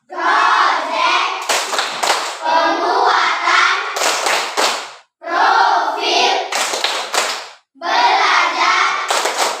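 Schoolchildren chant and clap through a rhythmic clapping routine, tepuk T5, in a primary school classroom, loud voices in unison broken by sharp bursts of claps, repeating in four cycles.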